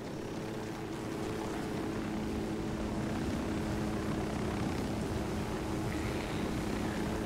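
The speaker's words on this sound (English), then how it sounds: "The flying chopper." Steady, dense rotor and engine drone from a helicopter flying in Ghost Recon Wildlands, loud and continuous for about seven seconds with no talking.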